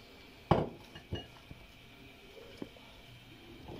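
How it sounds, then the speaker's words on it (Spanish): Peeled, chopped apple pieces dropping into a mixing bowl for an apple cake, a sharp knock followed by a few lighter taps and clinks, close and quiet. "Tenemos aquí preparado nuestro bol, al que vamos a echarle una de las manzanas que previamente hemos pelado y hemos picado."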